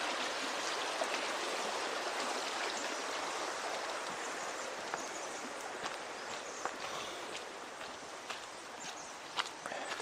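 A creek flows beneath a hiking bridge with a steady, broad rushing hiss, moderately distant and even, with a few faint scattered taps over the water.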